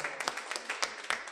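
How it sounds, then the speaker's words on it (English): Faint audience applause at a legal professional event, a short patter of scattered hand claps with no talk over it. "Can we clap for that?"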